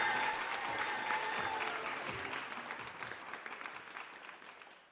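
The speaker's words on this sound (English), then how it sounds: "Let's give a nice warm round of applause for Dina Hashem." A comedy club crowd applauds as stand-up comedian Dina Hashem is brought on, a dense, warm burst of clapping that starts strong and gradually tapers off over several seconds.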